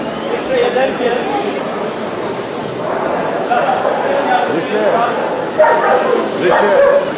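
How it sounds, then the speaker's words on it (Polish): Dogs at a dog show yip and bark in short bursts amid a busy crowd with chatter and people talking nearby. "Jeszcze jeden pies."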